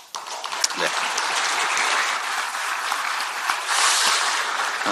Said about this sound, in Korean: 지금 박수 쳐주는 것은 낙선한 그리고 이름도 정말 명예도 없이 헌신하고 있는 우리 당원 동지들 후보들에 대한 격려 박수인 거죠?